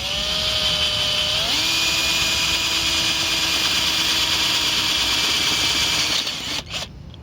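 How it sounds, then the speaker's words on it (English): Power drill boring out the metal in front of a sidebar, a steady loud mechanical whine with a pitch drop early on, running continuously before cutting off near the end. "You want to drill the metal out in front of the sidebar so you can screw it"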